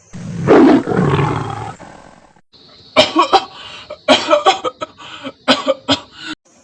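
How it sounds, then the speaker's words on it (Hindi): A man coughs harshly and repeatedly in heavy, rasping fits, close and loud, with a long strained hack followed by a string of sharp, choking coughs. "बहुत ही ज़्यादा बुरी तरीके से खांस रहे थे"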